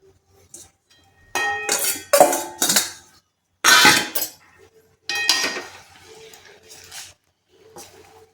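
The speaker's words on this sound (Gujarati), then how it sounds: "બધું જ તળેલું શાકને આપણે આવી રીતે બરાબર મિક્સ કરી લેવાનું છે." A spoon clanks against a pot as fried vegetables and masala are stirred together for Gujarati undhiyu. Close, uneven bursts of metallic scraping and knocking come between short pauses, with no speech.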